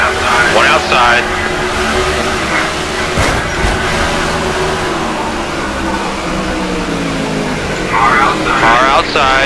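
A race car roars past in a racing video game set at Sonoma, its engine droning loud and continuous with a rising and falling pass, while a person talks over it.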